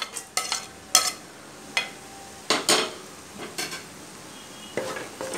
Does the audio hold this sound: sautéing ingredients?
yes